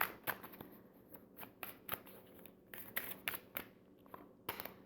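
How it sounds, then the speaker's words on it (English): Tarot cards shuffled and drawn during a reading, with a rapid run of crisp riffling flicks and soft card slaps coming close and clear, broken by brief pauses, with no voices. "We'll pick an outcome card now."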